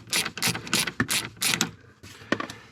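A ratchet loosens 7mm bolts on a Ford Bronco panel, quick bursts of crisp clicking pawl strokes up close, each run of clicks separated by short pauses, with no talking.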